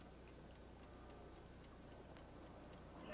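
Cigars rigged as bombs ticking in a 1979 comedy film, a faint, steady, rapid tick-tock running under a quiet room tone for about three seconds, with a small bump at the end.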